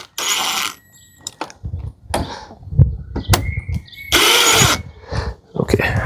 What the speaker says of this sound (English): I can use my screwdriver here and tighten that up the rest of the way real quick